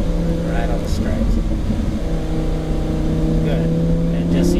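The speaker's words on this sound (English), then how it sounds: "Now full throttle, right side, straight ahead." Race car engine holding a steady high drone at full throttle on a Las Vegas track, loud and continuous throughout, with an instructor's voice talking over it.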